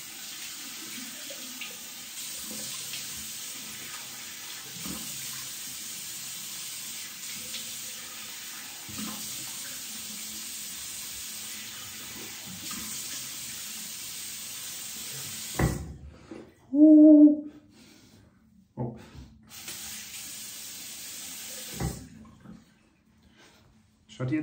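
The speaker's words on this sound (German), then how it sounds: "Einmal eiskaltes Wasser, den Hahn ganz nach rechts gedreht." Ice-cold water runs steadily from a tap turned fully on for about fifteen seconds, then stops; a few clunks and brief bursts of flow follow, with a voice briefly heard.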